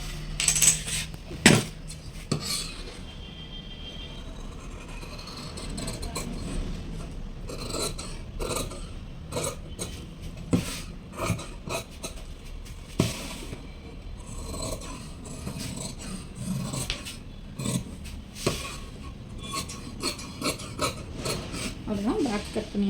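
Scissors cut fabric for the back piece of a blouse, making a long run of crisp, rasping snips and scrapes. The cutting comes in uneven bursts close to the listener, with soft handling noises between the cuts.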